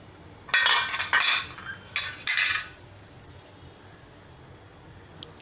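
Metal idli plates being oiled clatter and clink in a few short bursts, close and fairly loud, followed by quiet.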